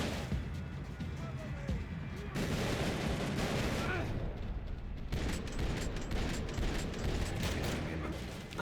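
Gunfire in Max Payne 3 rattles on densely and loudly for several seconds, a sustained barrage of shots and booming impacts with no clear break.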